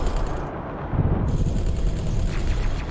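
Turret gunfire in the space game X4 Foundations: dense, continuous rattling bursts of automatic fire with a heavy low rumble, steady and loud throughout with no talking.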